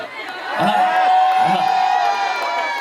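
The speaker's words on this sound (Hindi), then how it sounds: "एक बार जोरदार तालियां होनी चाहिए" An audience at a sangeet celebration cheers and claps in a loud, continuous crowd roar, with voices layered over the noise throughout.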